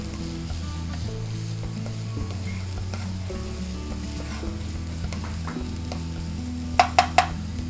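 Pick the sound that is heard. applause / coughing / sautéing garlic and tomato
sautéing garlic and tomato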